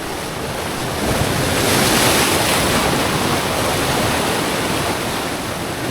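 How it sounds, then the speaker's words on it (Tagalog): Loud, steady ocean surf washes over a rocky fishing spot, a continuous roar of breaking waves that swells slightly partway through, with wind rumbling against the microphone. "Sana hindi tayo mabasa ng alon dito."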